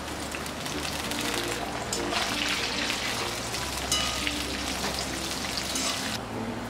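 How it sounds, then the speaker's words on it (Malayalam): Jackfruit chips deep-frying in hot oil with salted water sprinkled in: a loud, dense, rain-like sizzle and crackle that runs continuously throughout. "ഇതൊന്ന് ഫ്രൈ ആയി വരുമ്പോഴേക്ക് ഉപ്പിട്ട വെള്ളം ഇതിലേക്ക് ഒന്ന് തളിച്ചു കൊടുക്കാം"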